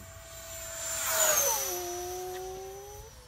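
A small E-flite F-16 Falcon 64mm electric ducted-fan RC jet makes a fast pass, its whine rising to a loud peak mid-clip and then falling, with a high pitch that sweeps downward as it goes by.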